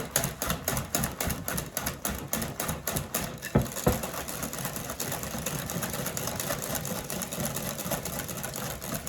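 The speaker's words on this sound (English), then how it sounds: "the whipped cream is whipping right now with no sugar added" Electric mixer whipping cream with no added sugar, a steady, fairly loud mechanical whir with a rapid rattling rhythm that runs continuously close by, with no voices over it.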